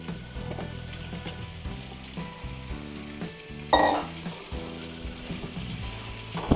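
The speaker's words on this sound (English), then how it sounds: "a couple minutes in, we're going to add our ground beef." Ground beef hits a hot pan and sizzles steadily, with stirring scrapes and a brief louder burst of frying partway through. It sits close and clear, with no talking.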